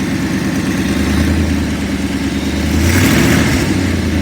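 A 1956 Ford Thunderbird engine idles close by with a rough, steady exhaust rumble that swells slightly toward the end.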